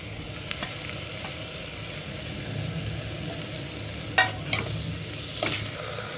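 Chopped tomatoes frying in golden-brown masala in a pan for an Anglo-Indian railway mutton curry, a steady low sizzle with a few sharp clinks of stirring near the end, close and moderately quiet, with no talk.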